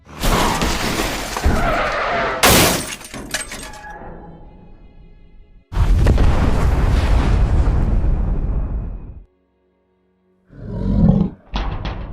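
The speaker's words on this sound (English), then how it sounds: "Oh, shit, it exploded." A nuclear explosion in the Fallout video game: a massive roaring blast with crackling debris, a second thunderous wave that rumbles heavily for several seconds before cutting out, then a brief further burst of rumble.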